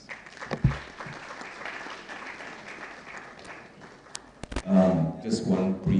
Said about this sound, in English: A round of applause as he comes.